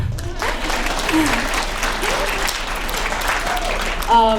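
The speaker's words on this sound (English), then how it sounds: "go ahead, clap for them" Steady applause from a crowd fills the room, continuous clapping at a fairly loud level, with brief voices rising near the end.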